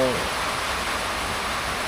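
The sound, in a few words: heavy rain falling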